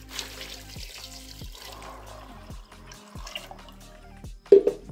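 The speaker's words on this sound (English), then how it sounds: "So I'll add the water." Water being poured into a pot of soaked beans in a home kitchen, with a thin trickle and splashing and a louder splash near the end.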